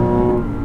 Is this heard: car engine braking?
yes